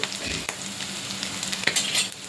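Potato and egg roll filling sizzling in a pan while a spatula stirs and scrapes through it, close and fairly quiet, with soft clinks of the utensil against the pan and no talk.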